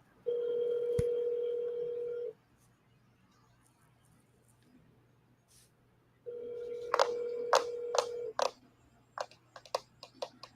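A telephone plays a steady dial tone, and a string of short dialing beeps follows a pause. The sound is faint and clear, with no voices over it.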